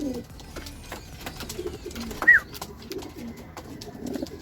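A racing pigeon coos softly near a loft, a low throaty warble that rises into one brief louder call midway, amid faint clicks and scattered background bird sounds.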